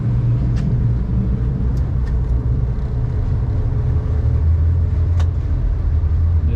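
Twin Yamaha F250 EFI outboard engines on a 2023 Defiance 270 Admiral offshore boat run at a steady low idle, a constant close rumble with faint clinks over it and no speech.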